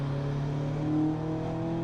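A turbocharged saloon race car leaves the pits under safety car at Donington, its engine droning steadily and close with a slight rise in revs, no talk.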